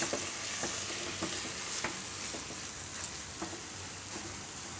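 Turiya patra curry simmering and sizzling steadily in a pan, with a gentle continuous frying hiss and occasional soft stirring taps and scrapes, fairly quiet and close.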